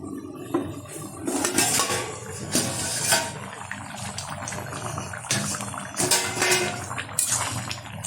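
A pot lid comes off a simmering chicken and potato curry, with several metallic clinks and clanks of lid against pot, in short bursts over a soft bubbling background.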